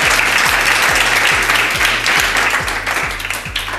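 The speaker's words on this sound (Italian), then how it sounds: "facciamo un applauso forte" Loud studio audience applause fills a TV studio, dense and steady throughout, with a faint rhythmic low thumping beneath and easing slightly toward the end.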